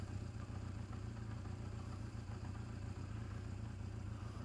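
A motorcycle engine idles steadily and close by, with a low, even rumble and light mechanical clatter running unbroken through the whole stretch, no voices present.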